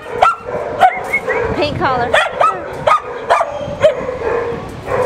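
Several dogs bark, yip and whimper at an animal shelter, including a Beagle and a Walker Coonhound among mutts; short sharp barks come in a quick irregular run nearby while a person talks over them.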